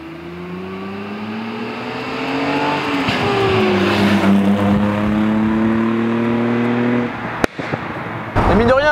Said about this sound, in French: c'est surtout le son et ces claquements énormes qui foutent un sourire pas possible.